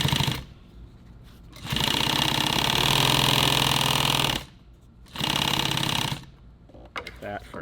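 Sewing machine stitching nylon tactical gear in two loud, steady bursts of rapid mechanical whirring, the first several seconds long, with quieter pauses between them.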